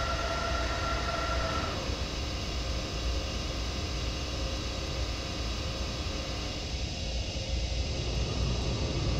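A train running in the Train Simulator video game: a continuous rolling rumble and steady tonal drone, loud and unbroken, with a high whine that fades partway through.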